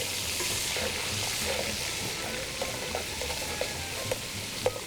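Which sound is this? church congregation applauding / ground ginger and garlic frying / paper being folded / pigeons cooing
ground ginger and garlic frying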